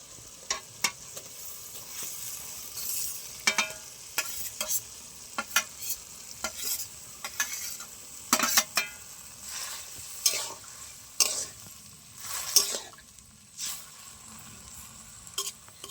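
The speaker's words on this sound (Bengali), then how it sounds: "এই যে জলটা ফুটে গেছে, এবারে আমি গ্রেট করে রাখা আলু দিয়ে দেবো।" Grated potato is stirred in boiling water in a pot, giving repeated scraping, sloshing strokes close by that come in irregular bursts over a soft bubbling background, with no talking.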